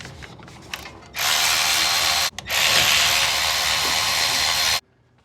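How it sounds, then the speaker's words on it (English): A power tool spins off bolts holding the brake line and ABS line to a Ford spindle, giving a loud, steady whir close up in two long bursts with a brief pause between, then stopping abruptly. "let's go ahead and just remove a couple bolts that attach the brake line and ABS line to the spindle."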